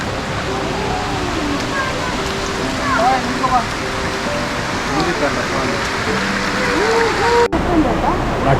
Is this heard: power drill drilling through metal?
no